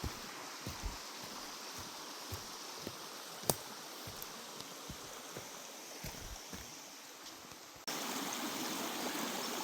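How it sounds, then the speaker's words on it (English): Water rushes steadily and evenly down a small cascading waterfall into a big pool in a wet green forest at Peters Falls. The sound is close and continuous, with no voices. "cascading waterfall and a nice big pool, just beautiful"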